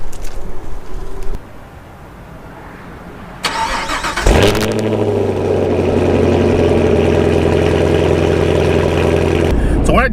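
A Chevrolet Camaro engine cranks briefly, then catches and settles into a loud, steady idle close by, after a few quiet moments of outdoor background.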